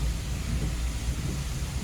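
Steady rain on a car being driven straight through a busy crossroads, a continuous low rumbling wash of rain and road noise, constant and fairly loud throughout with no talk.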